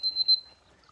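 An alarm clock goes off with a short, thin high-pitched electronic beep, a brief tone lasting under half a second, heard alone and close.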